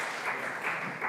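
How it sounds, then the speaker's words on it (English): A crowd at a 2023 Rhode Island congressional special election candidate forum applauds, a soft, steady wash of clapping heard from some distance with no distinct voices. "You can go ahead and give a round of applause if you like."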